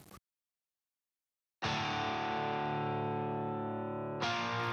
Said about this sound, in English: The guitar is just playing power chords with a bit more distortion than in the original